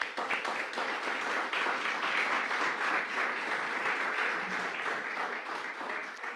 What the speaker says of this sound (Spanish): Quiero brindarles un fuerte aplauso.